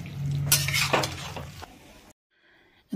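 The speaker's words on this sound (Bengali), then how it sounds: "মিক্স করে দিচ্ছি ভালো করে।" A moringa flower and vegetable curry with beans, eggplant and potato is stirred in a pan, a spoon scraping and clinking against the metal for about two seconds before the sound cuts to near silence.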